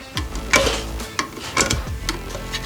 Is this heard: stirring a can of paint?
yes